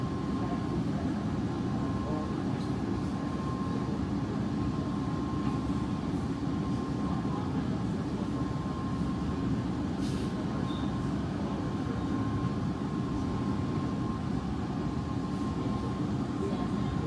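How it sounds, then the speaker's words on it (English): A Vancouver SkyTrain car moving along its track, heard from inside as a steady, loud rumbling roar with a faint tonal hum, continuous for the whole stretch, with a voice talking softly underneath. "And we're starting to move again."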